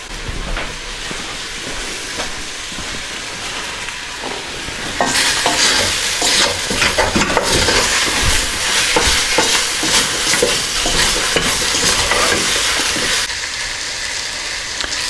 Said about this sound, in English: So now all that beef's mixed in, it's starting to cook.